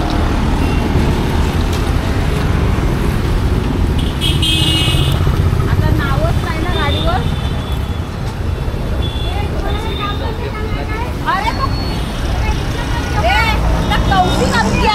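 An auto rickshaw's small engine drones steadily and close throughout, with the rattle of the moving vehicle as voices talk over it.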